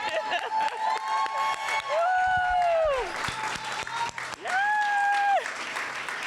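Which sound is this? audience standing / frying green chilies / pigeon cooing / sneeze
audience standing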